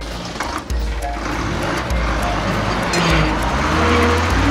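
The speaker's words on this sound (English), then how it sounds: "New York bus." Cartoon New York city bus driving with a close, loud, steady engine hum and gritty road noise that swells slightly as it goes.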